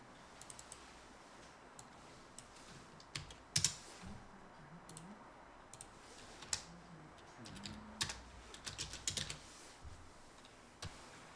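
Someone types on a computer keyboard while entering a spreadsheet formula. The keys click faintly and irregularly in small bursts, followed by a sharper press of the enter key, close and quiet with no voice.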